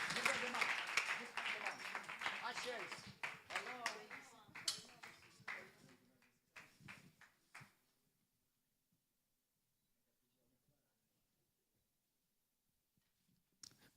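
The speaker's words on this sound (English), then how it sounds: "Let's give her a mighty hand of applause" A church congregation at an evangelism gathering claps for a woman minister, a short round of applause mixed with voices that tapers into scattered claps and then near silence, followed by a faint stir at the end.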